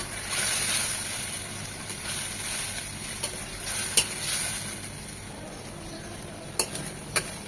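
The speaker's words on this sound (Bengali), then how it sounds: "এতে মশলার সাথে টমেটোটাও কষে যাবে" Tomato frying in a pan with spices, turmeric and salt as it softens, giving a steady close sizzle throughout with a few light clicks of a stirring utensil and no talk.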